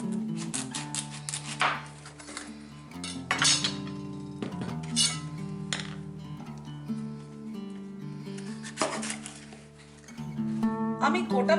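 A knife chops through a pumpkin in a home kitchen, giving several sharp knocks against the cutting board. The chops sit under steady background music.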